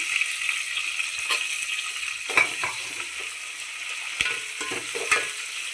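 Chopped tomatoes sizzle in a hot pan for a fish curry, a steady loud frying hiss broken by scrapes and clinks of a spoon stirring through the mixture, with no talking.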